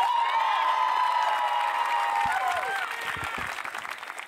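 Large graduation audience applauding for the class of 2022, a dense sustained clapping with scattered cheers and whistles, easing slightly toward the end.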